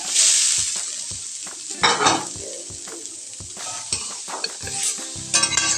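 Coconut and sugar stirred in a karahi, a spoon scraping and clinking against the pan in irregular strokes over a steady sizzle, close and alone.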